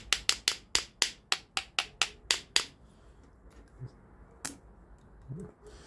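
PT Cruiser fuel tank struck with a socket to jolt a failing fuel pump, about ten sharp metallic knocks in a quick, even series, then a few scattered knocks and faint clatter.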